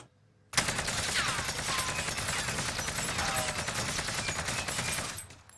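A Milano submachine gun firing in Call of Duty Warzone: one continuous loud automatic burst of rapid rattling shots lasting about five seconds, starting abruptly after a short quiet moment, with no talk.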